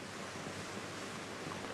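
Water and spray rain down after an underwater nuclear test explosion at sea, forming a faint, steady broadband hiss and wash like distant surf, with no distinct impacts.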